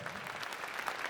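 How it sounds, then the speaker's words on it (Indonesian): Brief applause from an audience at a comedy show, a short burst of scattered clapping at moderate volume with no talk over it. "Tepuk tangan dulu buat kita semua pada malam hari ini dong."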